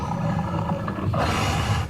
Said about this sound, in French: Un grognement retentit, lointain, puis un autre, plus grave, plus proche.